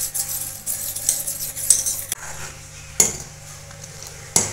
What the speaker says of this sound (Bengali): আর এখানে যে 2 চামচ দুধ তুলে নিয়েছিলাম তাতে আমি একটু কেশর রং দিয়ে গুলে নিচ্ছি